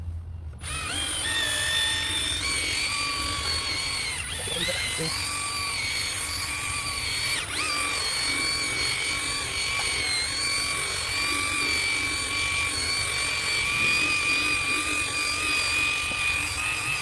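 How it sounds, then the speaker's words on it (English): A steady, whining power drill runs continuously and close by, buffing a car headlight lens, its motor drone holding nearly constant with slight pitch wavers throughout. "before you start using the drill"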